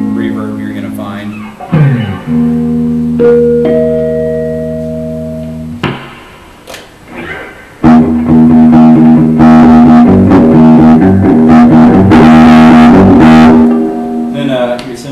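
An electric guitar played through a Mesa Boogie 4x10 combo amp with its reverb on rings out in sustained chords and single notes, with a pause, then a fuller, louder strummed passage that decays in a wash of reverb.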